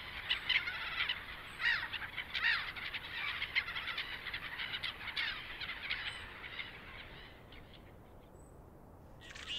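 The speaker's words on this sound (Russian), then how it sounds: "а казарка канадская." Several honking Canada goose calls ring out in quick irregular bursts, moderately loud, fading toward the end, with no one speaking.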